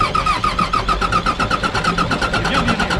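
An Irisbus Agora bus engine cranks with a fast, even rhythmic whirr of the starter, loud and close, holding a steady pulse throughout without yet catching into an idle.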